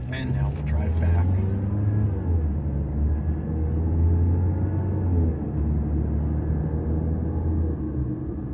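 A car drives along with a low, steady rumble of engine and road noise while a person talks over it.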